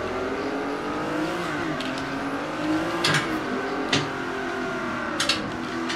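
A Ferrari 512 M race car engine in a racing video game drones and revs at high pitch, with the tone rising and falling through gear changes and a few sharp bumps or skids.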